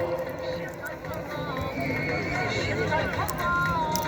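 Horses at a Beshkapa kupkari, the Central Asian horseback goat-dragging game, neigh and whinny repeatedly amid clopping hooves, with a crowd and commentary-like talk underneath throughout.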